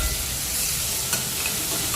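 Sliced onion tossed into hot oil tempering with ginger, garlic and green chilli for spinach khichdi, giving a dense, continuous close-up sizzle and crackle that stays level throughout, with no voices.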